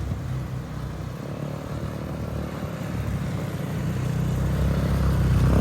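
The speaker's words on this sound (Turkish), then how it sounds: "Ben de böyle bir motorla gidiyorum." A motorcycle ridden toward the villas alongside ATVs heading for off-road rallying, its engine a steady low drone that grows gradually louder.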